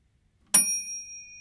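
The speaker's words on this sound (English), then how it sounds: "And we'll keep going until the bell rings." A timer bell gives one bright ding to end a study break, its metallic tone ringing on and slowly fading in a quiet room.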